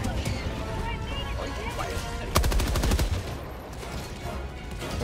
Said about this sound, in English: I got an orbital strike right on top of it.